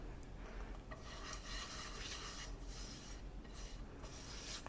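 Oil is rubbed over a frying pan before Swiss roll batter goes in, making quiet, close, rasping strokes that repeat in soft waves without any talk.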